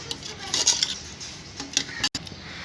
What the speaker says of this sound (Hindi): अब इसे अच्छे से मिक्स करेंगे।